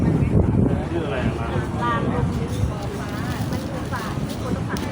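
Gusty wind buffets the microphone outdoors with a steady low rumble, and a voice talks over it.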